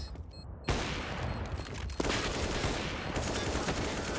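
Rapid gunfire bursts in a Counter-Strike match on the Cache map, dense crackling shots that cut in abruptly and continue as a loud sustained fusillade with brief gaps.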